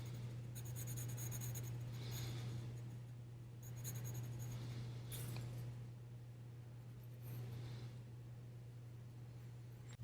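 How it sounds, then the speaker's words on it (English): Graphite pencil shading back and forth across paper to lay down even coverage for transferring a design onto a rubber stamp block, a steady close scratchy rubbing with short pauses, heard alone over a constant low hum. "When you're using your pencil, you do want to make sure that you're getting really good coverage"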